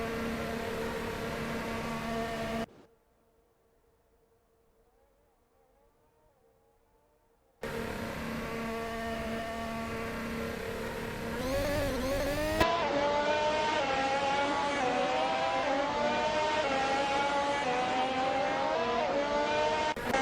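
Race car engines in a Le Mans racing simulator video game, whining and revving with rising and falling pitch, cut by a near-silent gap early on, then a denser, louder stretch of overlapping engines toward the end.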